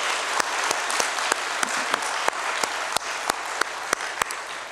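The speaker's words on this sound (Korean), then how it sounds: "하나님께 감사의 박수를 한번 뜨겁게 올려드리겠습니다" A church congregation applauds in thanks during a Sunday worship service: a steady wash of many hands clapping, with a few sharp, louder claps punctuating it at regular intervals throughout.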